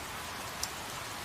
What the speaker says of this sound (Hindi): अरे, ये तो बारिश शुरू हो गई।